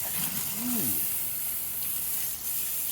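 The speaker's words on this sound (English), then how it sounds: "Just a little grease hit the manifold." Grease sizzling on the hot manifold of a Masterbuilt smoker while prime rib cooks, a steady close hiss throughout with a brief rising squeak near the start.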